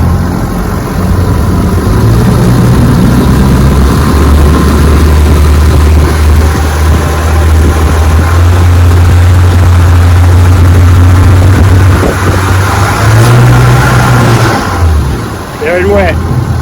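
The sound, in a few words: 1958 Johnson FD-12 18 HP outboard motor revving to high RPM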